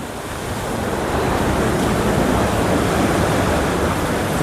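Sea water surges in at high tide on a full-moon day along the Mahuva coast at Bijli Baru, a loud, close, continuous roar of rushing waves that builds slightly over the first second.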